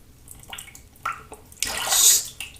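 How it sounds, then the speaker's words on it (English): Hands slippery with shaving soap are rinsed under running tap water: a few soft splashes, then a loud rush of water for under a second, close and without talk. "Rinse my hands because they're very slippery from the soap."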